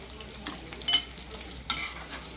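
Manchurian balls sizzle gently in oil in a kadhai and are turned over, with a soft steady fry broken by a couple of brief scraping clinks from the spatula. No one speaks.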